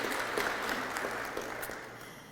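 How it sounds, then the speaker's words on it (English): Audience at a VIP banquet ceremony clapping, a steady patter of applause from a room of people that gradually fades, moderately loud with no talk. "I think y'all all clapped."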